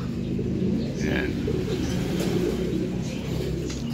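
Racing pigeons cooing at the loft, soft low coos heard under steady outdoor noise and a rumbling background, with a person talking nearby.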